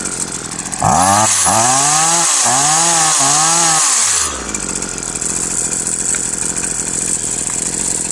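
A small engine, freshly tuned up with a new carburetor, starts and revs loudly with several rising and falling surges for a few seconds, then settles into a steady, quieter idle. No one talks.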